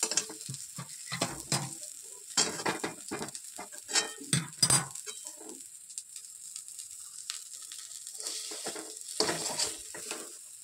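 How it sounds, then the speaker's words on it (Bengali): An egg omelette fries in a pan, a soft sizzle broken by irregular bursts of scraping and clattering as it is stirred and turned, pausing briefly in the middle. "ডিমটা দেখো ভাজতে দিয়েছি, যে অমলেট করে নেবো।"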